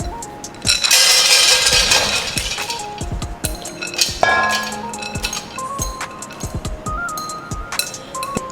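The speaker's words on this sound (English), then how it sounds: "So I'm going to pour it into the pot." Beans tip into a cooking pot with a dense rattling rush, followed by scattered clinks and pings of kitchenware, close and clear.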